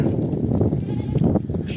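Sheep herded by nomads near a high-altitude lake in Kashmir bleat in a short, busy burst of overlapping calls over steady outdoor rumble.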